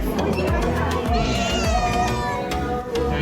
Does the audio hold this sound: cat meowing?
yes